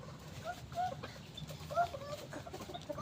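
A hen clucks faintly on a farm, a few short, soft clucks scattered over a quiet background.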